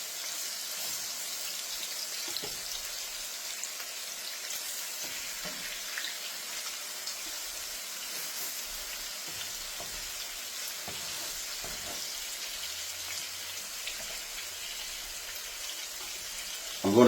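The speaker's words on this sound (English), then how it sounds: "Now we're going to add the ribs. And we're going to sear them on each side" Beef short ribs searing in a hot pan give off a steady, fairly quiet sizzle that runs the whole way through, with a few soft clicks and taps, and no one speaks.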